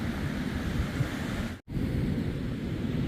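Easterly wind gusts steadily across the St Lucia estuary, a loud, continuous rushing roar that briefly drops out before resuming.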